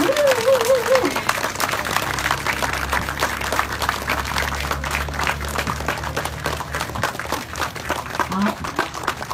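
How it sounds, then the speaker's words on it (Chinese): Sustained applause from a large audience at a temple groundbreaking ceremony, continuous crackling clapping for several seconds, with a brief vocal sound at the start and low hum underneath. "掌声不断！"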